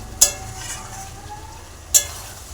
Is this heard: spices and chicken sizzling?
yes